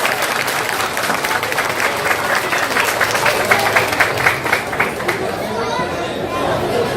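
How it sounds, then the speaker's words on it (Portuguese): An audience at a fandango festival on Ilha dos Valadares applauds a musician, steady dense clapping mixed with cheering and crowd chatter that gradually thins out. "Vamos aplaudir ele."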